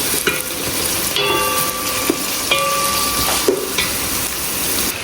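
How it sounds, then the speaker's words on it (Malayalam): Fish fries in coconut oil with a steady close sizzle, punctuated by a few sharp clinks and scrapes of stirring or turning. "മീൻ പൊരിക്കൽ തുടങ്ങിയപ്പോഴേക്ക്"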